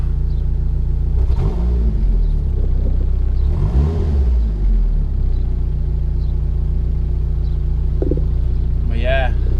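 A Mitsubishi Eclipse GSX engine idles while warming up, a loud, steady, low rumble that holds even throughout, with a few brief muffled sounds passing over it.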